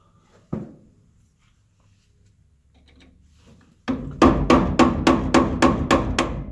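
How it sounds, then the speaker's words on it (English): A single knock, then after a quiet pause a run of about eight sharp, evenly spaced hammer taps on a metal part of a 1984 Chevrolet C10 rear end, close and ringing. "So we'll take a hammer and try to tap it."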